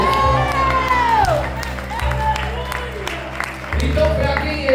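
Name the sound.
church congregation applauding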